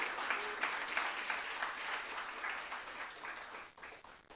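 A church congregation applauds during a youth service sermon, a steady wash of many hands clapping at moderate distance that thins out toward the end.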